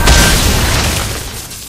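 Mobile Legends turret destroyed, a loud booming explosion up front that fades over a second or so, with no talking.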